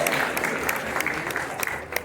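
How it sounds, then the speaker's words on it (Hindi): An audience claps at an honouring ceremony, a steady moderate wash of hands with a few sharper individual claps popping out, voices faintly beneath. "जोरदार तालियां।"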